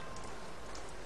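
Steady rain falling in a valley, a dense, even hiss of drops spattering on surfaces with no breaks, heard close and moderately loud with no one speaking.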